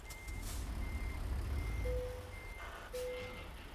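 Reversing beeps from a truck in American Truck Simulator sound as spaced electronic tones over a low engine rumble, with no speech.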